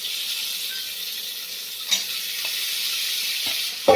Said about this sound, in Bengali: এই আলুগুলো দিয়ে ভালো করে কষি